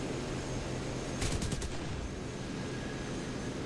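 Aircraft machine gun fire in War Thunder, an A2D-1 attacking a diving enemy: one short rapid burst of several close-spaced shots rises over a steady engine drone, then the drone carries on alone.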